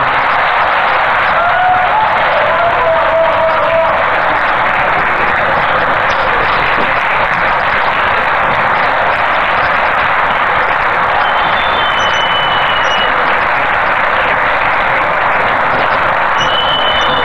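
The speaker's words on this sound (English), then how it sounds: "Round of applause again, ladies and gentlemen." Sustained applause from an audience at a Julius Malema address in Accra, Ghana, a steady broadband wash of clapping lasting the whole stretch with no talk over it.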